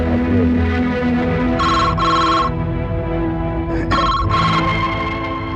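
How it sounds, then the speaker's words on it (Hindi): A telephone ringtone rings loud and close in a Hindi family drama, a steady melodic tone in two bursts separated by a short pause, with no talk over it. "बाबूजी का फोन है"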